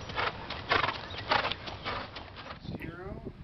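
A horse running under a rider at a ranch, hooves clip-clopping in a quick, uneven rhythm at moderate distance, with faint background noise and a brief whinny-like call near the end.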